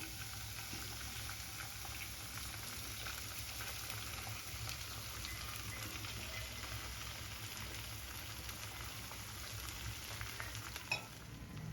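Beaten egg frying in a pan for an omelette, a steady close sizzle running evenly throughout with no talking.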